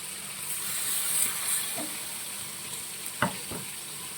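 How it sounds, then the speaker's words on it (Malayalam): Coconut milk goes into a pan of well-fried masala for a fish pollichathu dish. A steady sizzle hisses close by throughout, with a few soft stirring clinks and scrapes near the end. "അതിലേക്ക് നമുക്ക് തേങ്ങാപ്പാൽ നമുക്ക് ഒഴിച്ചു കൊടുക്കാം കേട്ടോ"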